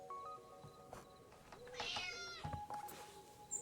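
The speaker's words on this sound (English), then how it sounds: "The cat!" In the video game Dordogne, a cat gives several soft meows, some short and one longer, rising and falling, heard fairly close against quiet game ambience with a few light clicks.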